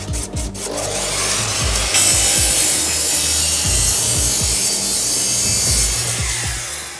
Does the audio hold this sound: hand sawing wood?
yes